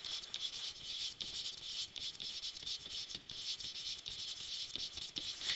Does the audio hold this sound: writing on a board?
yes